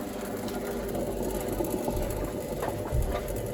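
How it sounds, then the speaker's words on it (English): An Indesit WIDXL12 washing machine, left out on a kerb and empty, whirs steadily with a rapid mechanical rattle and irregular clanks from inside the drum, heard up close with no talking. "it sounds like there's something clanking inside, even though there's nothing in there"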